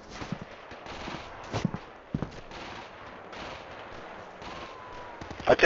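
Gunfire in the video game Darkest Hour: scattered shots and short bursts crack at moderate loudness over a muffled battlefield background, with a sharper cluster of reports near the end.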